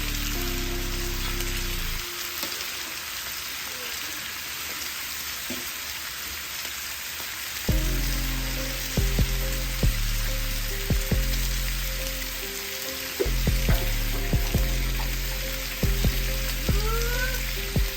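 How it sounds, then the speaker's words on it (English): Sausage frying on a Blackstone griddle, a steady loud sizzle with crackles and pops, interrupted by scraping and clattering from cooking utensils, with no talking. "Get the sausage going."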